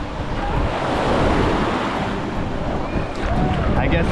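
Ocean waves wash steadily onto Miami Beach, a continuous loud roar of surf with wind buffeting the microphone throughout.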